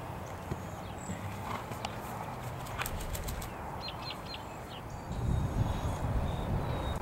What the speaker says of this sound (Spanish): Mire el caballo voltear en la tierra.